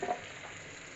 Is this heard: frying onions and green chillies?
yes